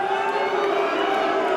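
Boxing crowd at an English cruiserweight title fight reacting to the referee's call, a loud sustained roar of many voices filling the arena with no pauses.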